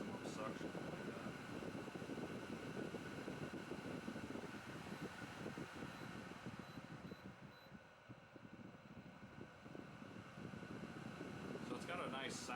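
An ASLOTUS H13 HEPA air purifier running at maximum airflow makes a continuous broadband whoosh, steady and close, with slight fluctuations throughout and no speech.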